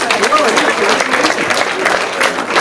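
Steady applause from an audience at a gathering, continuous dense clapping that holds at an even level for the whole stretch, with a crowd murmur underneath.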